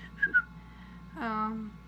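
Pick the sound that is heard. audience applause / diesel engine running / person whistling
person whistling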